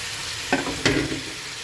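Taro root and pulla fish sautéing in a pan give a steady low sizzle, broken by two short scraping stirs of a spatula near the middle, with no voices.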